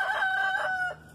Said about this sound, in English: this rooster crowing in the background every 20 seconds